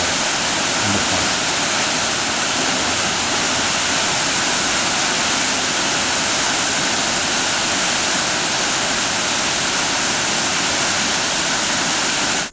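A waterfall in Yellowstone National Park roars with steady, dense rushing water, loud and close, unbroken throughout, with no voices.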